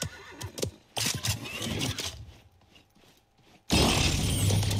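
Horse mount in the Paladins video game whinnying loudly, with hoof clatter and game effects, ending in a sustained burst of noise.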